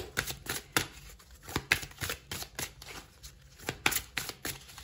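Oracle cards are shuffled and drawn by hand. A run of quick, crisp riffling flutters and slaps comes in irregular bursts, close and fairly quiet.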